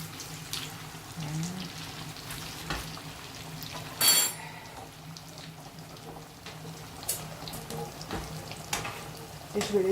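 Almond briouates frying in hot oil until golden, giving a steady, close sizzle with small crackles and one brief clatter partway through.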